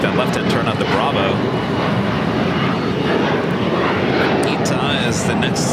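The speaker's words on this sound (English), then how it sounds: "This flight is 742 heading back to Doha on this 5-year-old A350-1000." A five-year-old Airbus A350-1000 airliner taxis at LAX with its jet engines roaring, a loud, steady, broad rumble throughout, with someone talking over it.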